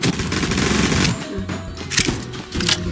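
Video game gunfire from a shooting battle, with rapid bursts of automatic fire and scattered single shots crackling loudly and continuously, no talk.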